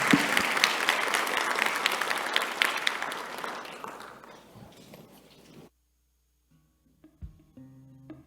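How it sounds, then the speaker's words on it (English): Audience applause closes a session at the JNUC 2023 conference: loud, dense clapping fills the room for about four seconds, fades out by around 5.5 seconds, and gives way to near silence with a few faint knocks. "massive round of applause to Brian."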